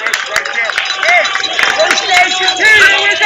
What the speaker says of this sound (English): And the Peyton crowd really into it.